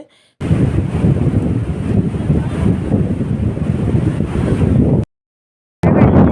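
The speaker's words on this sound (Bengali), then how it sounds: "হাওয়া দিচ্ছে, চুল টুল সব উড়ে যাচ্ছে।" Strong seaside wind buffets the microphone at Digha and Mandarmani beach, a loud, rumbling roar with a hint of surf. It cuts out briefly before returning.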